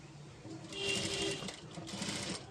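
Close, quiet machine stitching on a blouse for a tissue saree: a sewing machine runs in two rhythmic bursts with a brief slowdown between them.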